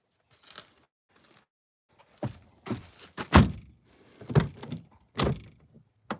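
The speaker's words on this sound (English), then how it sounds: "Soft closed doors." Soft-close doors on a 1992 Mercedes 300 SD, a series of thuds and latching clunks with a faint motorized pull, several separate closing sounds over a few seconds, close by and alone.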